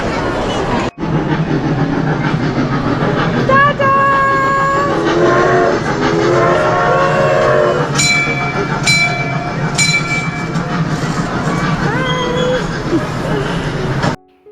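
A children's ride-on train rumbles steadily inside a mall at a Christmas market, with bright tones ringing out and voices chattering nearby over the constant drone.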